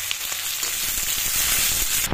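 Chopped onion and green chili fry in hot oil in a pan, a steady bright sizzle with crackling pops throughout, close and constant with no voices.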